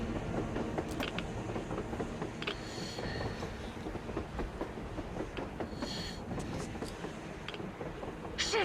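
In the video game Metro Exodus, a train runs on the surface with a continuous rumble and rhythmic clickety-clack of wheels over rail joints, moderately distant, with occasional metallic clanks and hisses.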